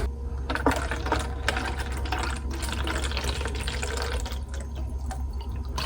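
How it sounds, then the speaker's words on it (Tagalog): Tap water runs steadily into a water bottle in a home setting, a continuous close splashing stream that holds for the whole stretch with no talking over it. "Lalagyan ko ng tubig yung aking water bottle."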